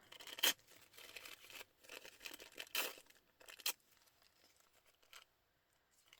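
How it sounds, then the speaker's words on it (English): Sewing pattern tissue paper ripped by hand, several sharp, close tearing bursts with softer crinkling and rustling between them, then quiet at the end. "I'll rip this one up."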